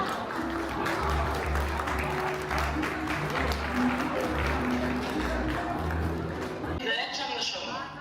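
An audience at a family birthday celebration applauds steadily for a family, dense clapping with a strong low rumble running through most of the clip, then thinning out near the end.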